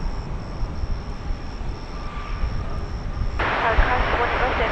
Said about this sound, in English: 767. Coming in from Cincinnati.